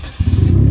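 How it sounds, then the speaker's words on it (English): A Hyundai Genesis Coupe with muffler, resonator and secondary cat deleted rumbles up from near idle into a loud, deep exhaust drone, close and strong for under a second. "there's a little clip of how the exhaust sounds"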